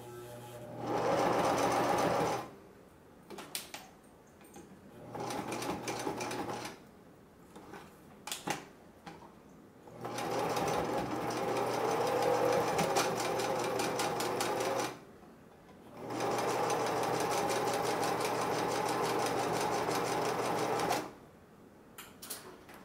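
A sewing machine stitching a moccasin liner and trim, running in several sustained bursts of rapid, even needle chatter separated by short quiet pauses, close and clear.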